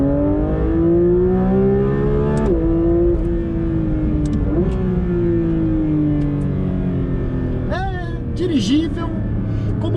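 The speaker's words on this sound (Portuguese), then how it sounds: "com a trilha sonora do motor aspirado Flat Six mais emocional que a Porsche já fez" The naturally aspirated flat-six of a Porsche 911 GT3 RS (992) holds a loud, steady engine tone from inside the car, its pitch easing and shifting through gear changes, with a voice talking over it throughout.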